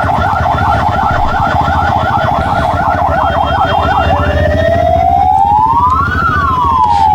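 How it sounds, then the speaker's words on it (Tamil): An ambulance siren wails loudly in Bangalore city traffic, first cycling in a rapid yelp and then switching to a slow rising and falling wail over a steady rumble of engines. "ஒரு ஆம்புலன்ஸ் லிட்டரலாக ஒரு அரௌண்ட் ஒரு 30 to 40 செகண்ட்ஸ் நின்றுட்டே இருக்குது"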